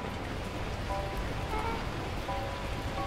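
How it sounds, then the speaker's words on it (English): Steady heavy downpour from the video game Beacon Pines, a dense, continuous wash of falling rain at even loudness with faint tonal game sounds woven through it. "At that moment, the heavens opened up, unleashing torrential rain."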